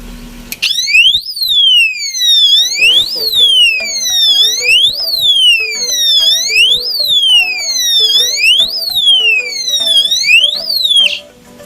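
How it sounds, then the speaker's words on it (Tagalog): A loud electronic power-failure alarm for a concrete fish pond wails close by in a repeating rise-and-fall sweep after its outlet is switched off, cycling steadily for several seconds before cutting off abruptly. "nag-alarm siya nung nawala po yung kuryente"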